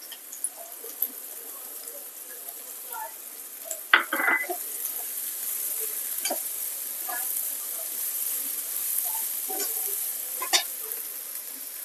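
Garlic fries softly in a pan for veg Manchurian gravy, with a faint steady sizzle and occasional scrapes and clinks of a spoon, one sharper knock near the middle, heard close and quiet.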